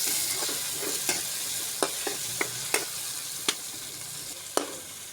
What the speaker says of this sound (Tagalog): gisa muna tayo ng ng luya at saka bawang po. Na, kaya natin ng kamatis